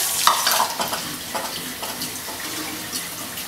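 Quinoa being rinsed under a running kitchen tap, a steady broadband rush of water splashing through the grains for a few seconds, close and continuous with no talking.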